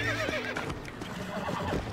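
A horse in Red Dead Redemption whinnies loudly while being tamed, a shrill neigh over snorts and hoof clatter, close and brief with no talk.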